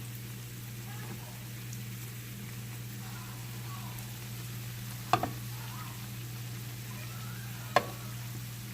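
Hot water cornbread patties fry steadily in a pan, a constant faint sizzle holding through the whole stretch with two brief sharp clicks or taps partway in, no voices.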